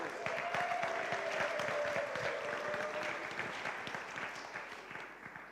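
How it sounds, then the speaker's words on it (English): Conference attendees break into sustained applause in a large hall, with many hands clapping in a dense, steady wash and a faint tonal hum running under the first half, tapering slightly toward the end. "one more round of applause for those of you who are coming to Caux for the first time"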